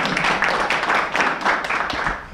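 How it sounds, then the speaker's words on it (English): A brief burst of crowd applause, many hands clapping in a dense, even patter. "Let's give them a round of applause."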